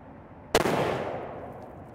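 A single Mossberg Patriot Predator rifle in 7 PRC fires one sharp, loud report at the range. The blast is followed by a rolling echo that slowly fades out.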